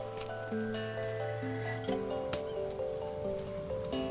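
Rain falls in the survival video game Stranded Deep, a soft, quiet patter heard alongside sustained musical tones from the game's soundtrack, with no speech.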